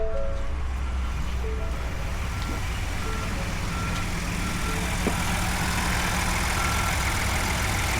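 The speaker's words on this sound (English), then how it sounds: "we'll start this truck up and see what it does" A Ford F150 pickup with an intermittent charging fault runs with a loud, steady engine drone that stays constant throughout, with faint tonal beeps and whines layered over it.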